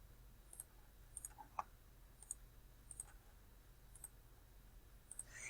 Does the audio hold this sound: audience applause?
no